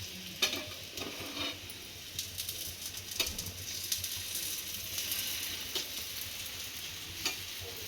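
Rice roti sizzles steadily on a hot, lightly oiled griddle, a soft continuous frying hiss with faint pops and crackles, close and fairly quiet, with no talking.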